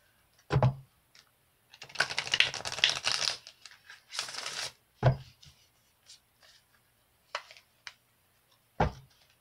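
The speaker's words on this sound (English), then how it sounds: "I'm going to pull some more advice cards" Tarot advice cards are shuffled and handled, giving scattered papery riffles and crisp flicks, with a couple of longer shuffling bursts among sharp isolated card snaps, close by.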